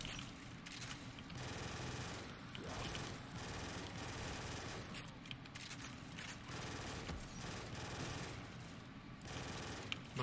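Dense gunfire from the Zombies mode of the video game Black Ops 3, with rapid automatic bursts running steadily under a busy in-game soundscape.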